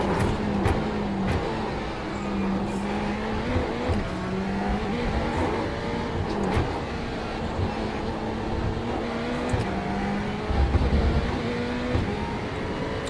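A Ferrari GT3 Challenge race car lapping Sebring in the iRacing sim, its engine a loud, steady drone whose pitch climbs and drops through gear changes and corners, with no talking over it.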